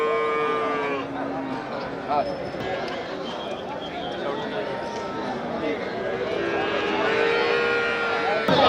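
Cattle at a busy open-air livestock market in Melapalayam, with repeated moos and lowing from several animals near and far, under constant crowd chatter and people talking throughout.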